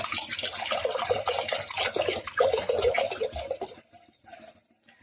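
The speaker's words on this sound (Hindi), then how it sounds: "तो अब इसमें पानी डाल देता हूँ" Water pours into a pot of washed lentils for dal in a home kitchen, a continuous splashing trickle that tapers off near the end into a few faint drips.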